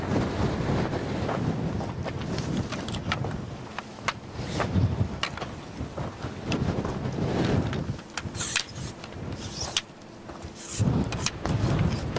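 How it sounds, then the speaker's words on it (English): Strong, relentless wind during an Oklahoma storm chase roars and buffets the microphone in loud, uneven gusts throughout, with no clear talk. "Wind is relentless."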